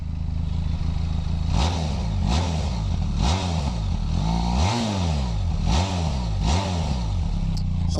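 A Benelli TRK502X twin-cylinder motorcycle exhaust revs repeatedly, about seven loud rising-and-falling blips of throttle over a steady close idle, with no talking.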